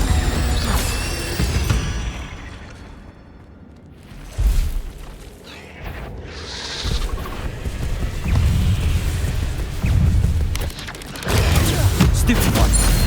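Incendio fire spell cast in Hogwarts Legacy: a whooshing, crackling magical burst with rumbling booms, set among dense combat sounds and shifting mechanical clatter.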